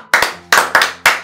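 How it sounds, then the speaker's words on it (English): Four loud, close hand claps in an uneven rhythm, each sharp and brief with a short ringing tail, in a Nigerian movie scene in Lagos. "More clap, man. More clap."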